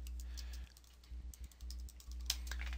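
Quiet keyboard keystrokes as a Linux command is typed at a terminal on an Oracle Linux virtual machine, a short irregular run of clicks over a steady low hum.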